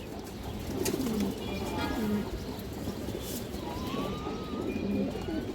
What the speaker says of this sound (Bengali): এগুলো হাই ফ্লার কবুতর দর্শক, আপনারা দেখলে বুঝতে পারবেন।